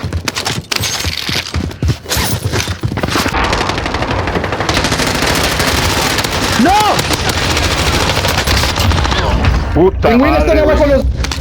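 Sustained automatic gunfire in a multiplayer shooter video game, loud and close, a dense rattling stream of rapid shots running for several seconds, with game sound effects and voices mixed in.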